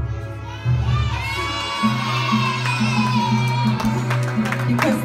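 A group of children shout and cheer together at a church children's ministry event, a loud sustained crowd roar lasting several seconds.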